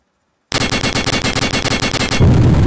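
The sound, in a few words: video game auto rail cannon firing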